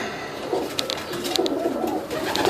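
Tippler pigeons coo steadily inside a loft, soft overlapping calls repeating close by with faint rustling and no talking.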